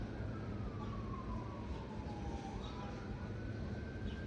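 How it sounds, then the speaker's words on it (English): Wailing siren at a distance over constant street traffic, its tone sliding slowly downward and then rising again across the clip. "You hear the sirens?"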